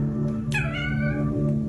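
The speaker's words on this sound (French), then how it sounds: "Chaque fois qu'il entend le fameux Toudoum, eh bien, il se met à miauler, à remuer la tête pour le plus grand plaisir de sa propriétaire." A cat gives one short, clear meow in response to the Netflix jingle, heard over a low steady background hum.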